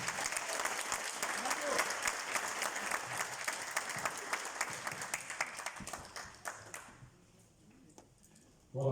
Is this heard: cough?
no